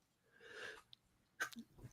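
A single quick, soft sneeze from a podcast host, a short breathy burst with a small catch of breath before it, fairly faint and close to the mic, with no talking.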